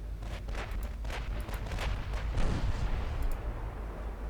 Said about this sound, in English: There are enemy ships exploding violently